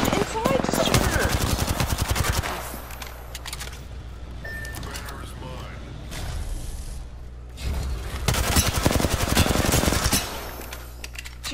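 Rapid automatic gunfire in the video game Apex Legends, loud and close, in dense rattling bursts with a pause between them, over steady game background noise.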